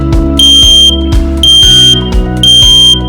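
An X-Sense smoke alarm sounds loud and close, three long piercing high beeps in a regular rhythm, alternating with bursts of low rumbling and clattering between each tone.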